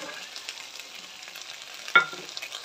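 Vegetables sauté in a pan with red chilli sauce, a soft, quiet sizzle steadily underneath, broken by one sharp utensil clink against the pan near the end; no talking.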